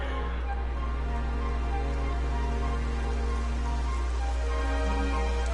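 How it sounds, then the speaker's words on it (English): Steady rain hisses in the Dragon Quest XI video game, a constant even wash of falling drops over a low hum, with no pauses or gusts. "It would have to go and start raining, wouldn't it?"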